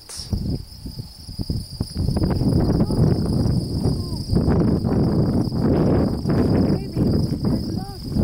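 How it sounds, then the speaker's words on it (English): Steady high-pitched cricket chirping runs throughout over loud road and wind rumble from a vehicle moving across the Saskatchewan prairies. "Crickets."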